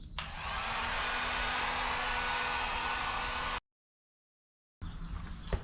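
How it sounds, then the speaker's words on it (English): A heat gun blows a loud, steady roaring hiss over a carbon lip spoiler on an Audi B9 S4, running alone for several seconds, cutting out abruptly, then starting again. "So I'm gonna start with heat gunning this thing."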